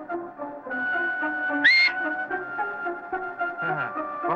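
A single sharp whistle blown as a mocking welcome cuts in briefly over a background of music and ambience.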